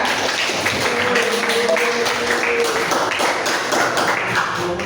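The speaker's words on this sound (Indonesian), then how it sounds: "Tepuk tangan kita semuanya." Classroom audience at a teacher-training session applauding, a dense continuous patter of clapping hands throughout at steady loudness.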